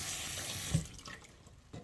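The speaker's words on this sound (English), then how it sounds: "So the next is the chickpeas that I'm rinsing." Tap water running into a sink while chickpeas are rinsed, a short, faint, steady splashing flow with a small knock partway through.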